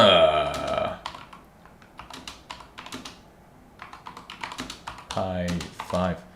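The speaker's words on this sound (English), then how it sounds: "I was typing way too fast" Fast typing on a computer keyboard in bursts of quick clicks, with a short burst of speech at the start and moments near the end, set during an Arch Linux install on a Raspberry Pi 5.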